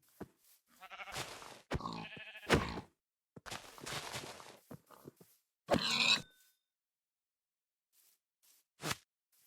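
Sheep bleating in a barn or cellar setting, a series of short harsh calls at close range with quiet gaps between them, the loudest burst about midway and a single brief bleat near the end.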